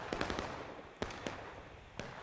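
Rifle fire crackles through a Civil War video game battle, a quick ragged burst of shots followed by scattered single reports at a distance.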